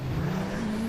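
A drift car engine at a D1NZ drift event gives a loud, sustained snarling roar that climbs in pitch as it revs, up close and with no voices over it.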